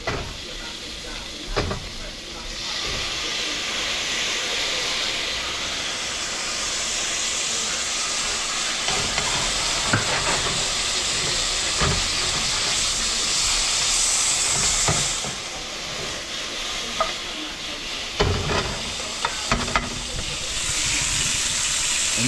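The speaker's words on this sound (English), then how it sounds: "That fish is just about done. You hear that sizzle?" Fish frying in a hot pan gives a steady hissing sizzle that runs for the whole stretch, with occasional clicks and knocks over it, and voices are faintly audible at times.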